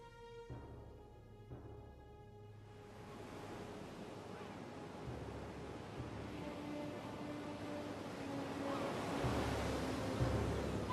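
Sea waves wash against the coast at Sounion, south of Athens, in a continuous broad rush that swells toward the end, mixed with wind and a faint low hum.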